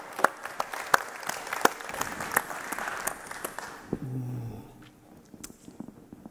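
A live talk-show audience applauds the arrival of guest Dr. David Levy, with sharp, close claps that fade out, followed briefly by a voice.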